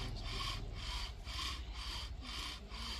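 Bow drill spindle grinding against wood for a friction fire in the mountains: rhythmic back-and-forth rasping strokes about twice a second, close and continuous.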